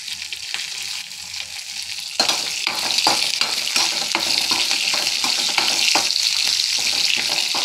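Green chillies, dried red chillies, cumin and garlic fry and sizzle in hot oil for a mint tomato chutney, a continuous crackling hiss with stirring scrapes, close and fairly loud, with no talking.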